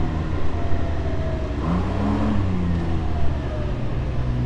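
A Ryker and a motorcycle accelerate hard from 20 mph in a roll race, a loud, continuous engine roar with rising revs and shifting tones up close, no voices.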